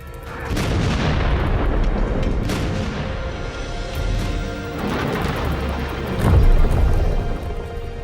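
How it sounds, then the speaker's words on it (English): British artillery firing in 1916 Dublin, a dense rolling rumble of heavy booms and reverberating blasts that stays loud throughout and swells again near the end. "British artillery opens fire with devastating effect."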